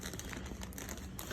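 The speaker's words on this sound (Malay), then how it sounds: "Dah terkoyak sekali dengan plastik dalam tak dah." Plastic wrapping on a pack of Purine maternity pads crinkles and tears in a steady, close, continuous rustle lasting just over a second, with no voices.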